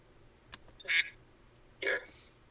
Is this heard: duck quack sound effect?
yes